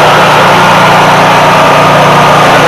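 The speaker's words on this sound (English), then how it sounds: "Let's fire it back up. That old Honda E5000." A Honda E5000 generator engine runs steadily at close range, a loud, even mechanical drone with a low hum that holds unbroken throughout, with no voices.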